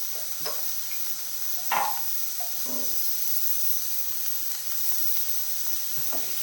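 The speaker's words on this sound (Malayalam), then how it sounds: "എന്നിട്ട് ഈ സവാള നല്ല രീതിയിലൊന്ന് വഴറ്റണം." Sliced onion fries in hot oil with cumin seeds and a pinch of salt over a medium flame for an egg curry, a steady soft sizzle broken by a few scraping stirs of the pan.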